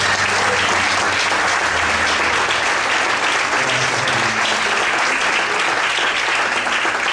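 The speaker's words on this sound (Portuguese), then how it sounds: "Aplauda ao Senhor." A church congregation bursts into steady, dense applause, a loud sustained wash of clapping from many hands with no pauses throughout.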